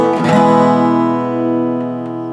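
Acoustic guitar rings out the closing chord of a song, one strummed attack that sustains and slowly fades, close and alone.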